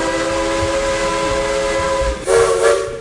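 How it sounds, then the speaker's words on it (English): A steam train whistle blows loudly and steadily, a sustained multi-tone chord with hissing steam beneath, swelling briefly louder near the end. "The train whistle blew loudly,"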